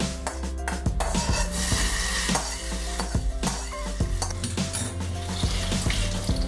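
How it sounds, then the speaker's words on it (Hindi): Continuous hot-oil sizzling as a tempering is poured into curry, with clinks and scrapes of a utensil against a pot, steady and close, with no voices. "ये तड़का मैं इसमें डाल दूंगी"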